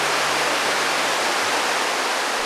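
Steady, dense rush of flowing water from the waterfalls and mountain streams of Juwangsan National Park in Cheongsong, Korea, a continuous broadband roar with no voices.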